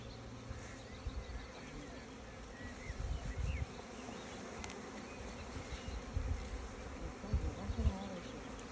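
A honeybee swarm being weighed and handled by a beekeeper in Moreuil, Somme, fills the air with a dense, continuous buzzing. Soft low bumps and handling knocks come and go beneath the buzz.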